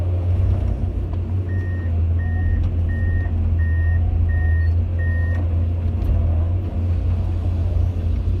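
Ten-wheeler government trucks at a roadwork site, a heavy diesel engine rumbling steadily while a reversing alarm beeps six times in an even rhythm, other traffic faint behind.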